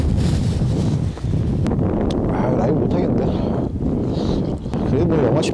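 Loud wind buffets the microphone at a winter campsite at minus ten degrees, a rough, continuous roar with brief lulls, while people talk.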